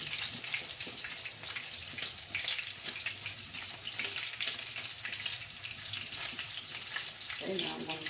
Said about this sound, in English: I take my spatula and slide it off the fork down back into the grease